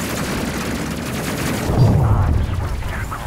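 Rapid auto cannons fire at enemy ships during a space crew game battle, a dense rumbling burst of gunfire that swells in the second half, with some speech in the mix.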